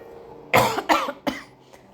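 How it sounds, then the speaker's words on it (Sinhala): Three quick, sharp coughs from one person burst out close by in a quiet room, with no talk over them. "මට කැස්සක් ආවා"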